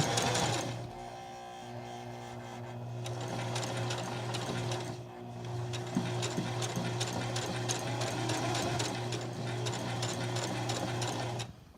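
Sewing machine stitching a fabric cellphone cozy runs steadily and close for nearly the whole stretch, a constant motor hum under rapid needle clatter, pausing briefly midway before resuming.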